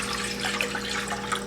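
About two cups of room-temperature water pour into a pan for Kashmiri pink tea, making a steady close splashing rush with no talk.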